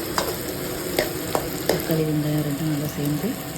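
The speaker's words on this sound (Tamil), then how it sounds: "அதுக்கப்புறம் ஒரு தக்காளி வதக்கணும் இது நல்லா வதக்கி விடுறேன்" Onions and tomato sauté in a pan for a fish curry, with a steady sizzle broken by a few sharp clinks and scrapes of a spoon stirring against the metal.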